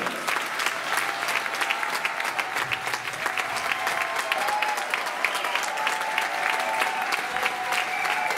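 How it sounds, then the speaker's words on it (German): Live audience at a hypnosis stage show in the Rheinforum giving long, sustained applause, a dense, even wash of many hands clapping at full strength throughout, with some voices underneath. "bekommst einen riesen Applaus der Zuschauer"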